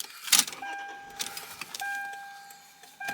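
A 2001 Lexus GS300 (S160) has its keys jangled and turned, then chimes and the starter sound as the engine catches, with steady electronic warning tones afterward.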